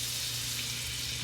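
Butter and olive oil sizzle steadily in a frying pan, a continuous bright hiss with a faint low hum underneath, close and even throughout with no voices.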